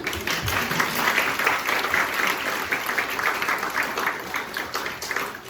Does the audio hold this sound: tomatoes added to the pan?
no